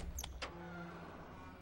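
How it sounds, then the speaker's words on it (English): In the horror video game Silent Hill Downpour, a door opens by itself: two sharp mechanical clicks, then a low, steady whirring hum that fades, heard up close with no talking. "Why did that door open on its own?"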